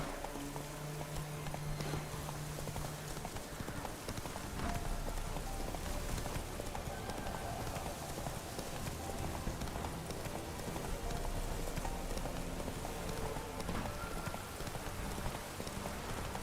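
A horse's hooves clip-clop in The Witcher 3 video game. The rhythmic hoofbeats are fairly soft and steady over a faint rain-like ambient wash.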